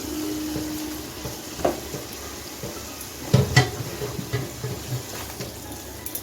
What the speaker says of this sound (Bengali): এখন আমি ভিজে রাখা ভেন্ডিটা দিয়ে দিচ্ছি